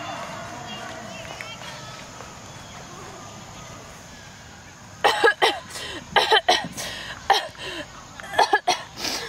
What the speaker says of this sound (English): your cough